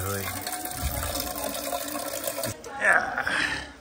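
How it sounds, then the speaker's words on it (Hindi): Water poured from a lota onto the face for washing in a Kashmir village, a short splashing gush near the end after a stretch of background sound, with talking heard over it. "मैं फर्स्ट टाइम जो है ना लोटा इस्तेमाल कर रहा हूँ पानी के साथ।"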